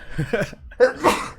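Someone sneezes once, a sharp close burst, after a moment of brief vocal sound, during a podcast conversation.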